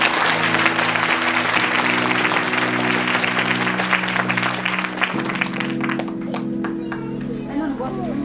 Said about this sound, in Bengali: প্রভু যেন জোরে করতালি দিন